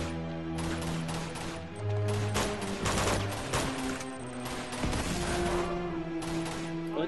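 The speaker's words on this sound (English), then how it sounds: "Someone's shooting you from the roof." Rapid gunfire in the video game Uncharted 2, with bursts of shots fired from a rooftop crackling in dense volleys alongside game music and effects, fairly loud and continuous.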